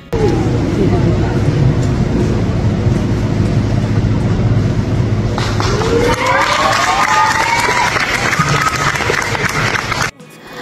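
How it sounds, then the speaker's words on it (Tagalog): A crowd cheers and claps loudly as newlyweds kiss at a church wedding, a dense roar of voices and hands with shouts and whistles rising over it in the second half, ending abruptly. "At lalong hiyawan ang mga tao na hinahalikan na ni Carlo Aquino ang kanyang asawa"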